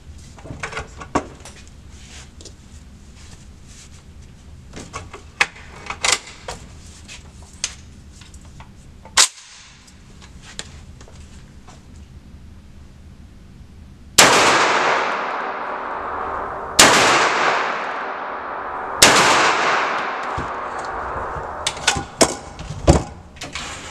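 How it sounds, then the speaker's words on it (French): A Derya MK12 12-gauge shotgun fires cartridges. Three sharp, loud blasts come at spaced intervals, each with a ringing tail. Light clicks and handling noises come before them and between them. "Alors on va tirer d'abord 3 cartouches pour voir où est-ce que ça tire."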